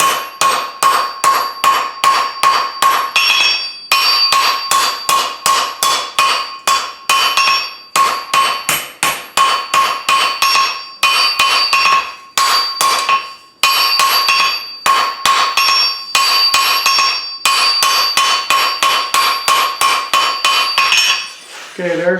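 Steady, ringing hammer blows on a steel bar on an anvil while forging a taper for a wreath hook, dozens of sharp metallic strikes in quick rhythmic bursts with brief pauses between runs.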